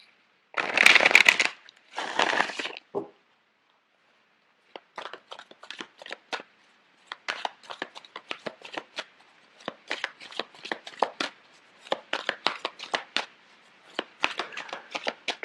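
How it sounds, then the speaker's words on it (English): Tarot cards being shuffled close up: a few quick riffles, a pause, then long runs of crisp, rapid flicking that rise and fall in bursts. "I'm going to shuffle the cards out for you."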